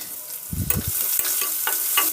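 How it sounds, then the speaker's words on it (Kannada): Chopped onion, cumin and cut dried red chili sautéing in hot oil in a pan, a steady sizzle with a burst of stirring scrapes near the start, close and alone. "ಇಷ್ಟನ್ನು ಹಾಕಿ ನಾನು ಚೆನ್ನಾಗಿ ಬಾಡಿಸ್ಕೊತಾ ಇದ್ದೀನಿ ಈರುಳ್ಳಿನ ಚೆನ್ನಾಗಿ ಎಣ್ಣೆಲಿ ಬೇಯಿಸ್ಕೊಳ್ಳೋಣ"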